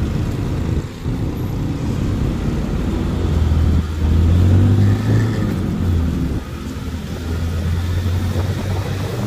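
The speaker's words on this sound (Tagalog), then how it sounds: "Papasok na tayo sa Boni Tower mga guys. Boni Tunnel." A vehicle drives into Boni Tunnel in Mandaluyong on a ride along Boni Avenue, with a steady low road rumble and engine drone that swells slightly midway, no talk.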